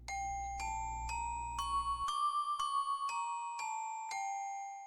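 Minor scale with a raised fourth note played as evenly spaced chiming tones, about ten notes climbing and descending, each struck cleanly and ringing briefly, with a low hum under the opening notes.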